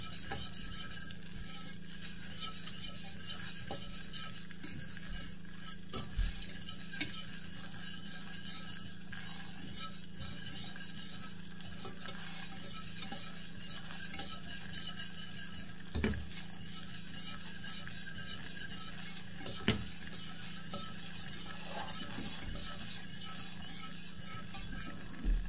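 A butter and flour roux is stirred in a pan over gentle heat: a continuous scraping stir with a soft sizzle underneath and regular small clicks of the utensil against the pan, close and alone.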